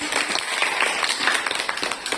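Brief round of clapping from an audience of teachers at a school positive-culture dissemination session, a dense patter of hand claps at moderate level for a couple of seconds.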